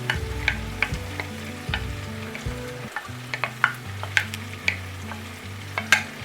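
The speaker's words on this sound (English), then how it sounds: "we're gonna go ahead and drop in our celery and our onion." Chopped celery and onion sizzling in melted butter in a pan for holiday stuffing, with a steady soft fry, sharp crackles and pops, and low clunks from stirring, close and moderately quiet with no voices.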